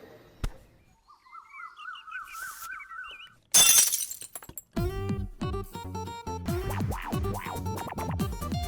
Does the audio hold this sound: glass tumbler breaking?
yes